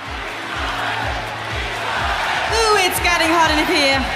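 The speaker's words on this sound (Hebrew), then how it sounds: "תקשיבו מה הקהל צועק" A large Eurovision Song Contest crowd shouting and cheering loudly, sustained throughout, with rhythmic chanting of a country's name swelling toward the end over a steady pulsing beat.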